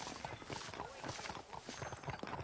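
Horse hooves clip-clop in the Western video game Red Dead Redemption, a busy rhythmic patter of several horses close by over a dense background of game sound.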